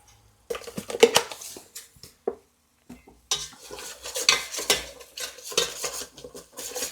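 Salt being stirred into khichdi in a pot, with close, bright metal-on-metal scraping and clinks of a spoon against the pot in two bursts separated by a brief near-silent pause, no talk.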